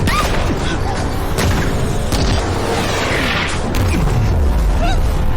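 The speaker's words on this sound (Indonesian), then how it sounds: "Gu Bei kemudian bergerak menuju asal tembakan dan menghabisi mereka" Gunfire in an action film comes as loud, dense booms and cracks over a constant roaring mix of music and effects throughout.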